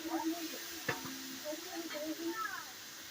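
Small cut potato pieces stir-fry in a pan for potato patties, giving a soft steady sizzle with a few quiet scraping stirs and one sharper knock partway through.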